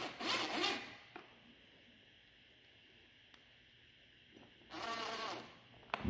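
Screws being driven in to mount a lock in a shop, with two bursts of close rasping, grinding turning at the start and end and a quiet pause between them.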